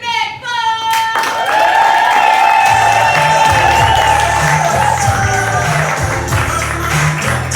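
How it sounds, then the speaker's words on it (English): Audience at a comedy show bursts into loud, sustained cheering, whoops and applause that fill the whole stretch, with shouted voices mixed into the crowd roar. "Let's give a big round of applause to Nick, folks!"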